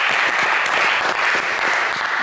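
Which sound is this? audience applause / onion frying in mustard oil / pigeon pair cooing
audience applause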